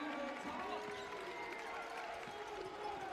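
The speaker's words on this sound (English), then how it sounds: "you hear that Calgary crowd cheering on Holt Tommy" Distant, faint arena crowd cheering at a U Sports men's basketball championship game in Calgary, a steady murmur with light clapping and no separate voice above it.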